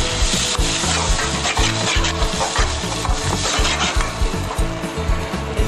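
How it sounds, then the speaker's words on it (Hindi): Grated tomatoes stirred into fried garlic, onion and gram flour in a hot pan, a steady scraping rhythm of spoon strokes over continuous sizzling, close and fairly loud. "हमने 2 टोमेटो को ग्रेट कर लिया है और इसको अच्छे से चला लेंगे"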